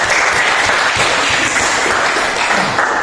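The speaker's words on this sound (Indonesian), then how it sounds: "Tepuk tangan dulu buat." A high school class gives a loud, sustained round of applause. The clapping of many hands stays dense and even throughout, and faint voices mix in underneath.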